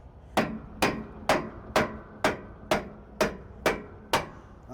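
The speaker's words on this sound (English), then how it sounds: "have to bang it with the hammer." Someone bangs a part into place with a hammer, striking about nine sharp, evenly spaced blows roughly half a second apart. The blows sound moderately close against a quiet background.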